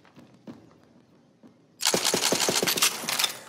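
A gun fired in Borderlands 3: a few soft clicks and thuds, then a loud rapid string of sharp shots about nine in quick succession, close and punchy.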